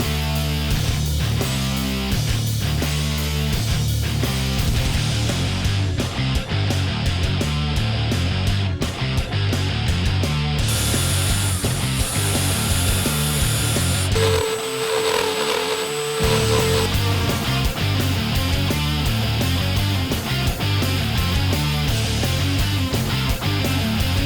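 A power tool cuts holes in plastic interior trim panels while fitting a nitrous system to a Ford Mustang, a steady loud whine running almost without a break, with a brief shift in pitch partway through.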